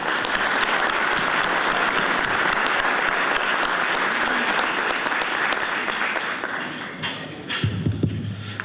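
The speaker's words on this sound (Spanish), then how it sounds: "Recibamos con un aplauso" Sustained applause from a large conference audience welcoming a speaker, dense and steady throughout, fading slightly toward the end.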